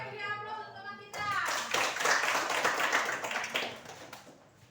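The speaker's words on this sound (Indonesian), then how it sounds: "beri aplaus untuk teman kita" Applause for a group presentation in a classroom: a burst of hand clapping from a group begins about a second in and continues steadily, then tapers off, following a brief moment of quieter sound.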